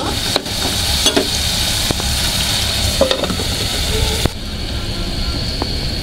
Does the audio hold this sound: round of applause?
no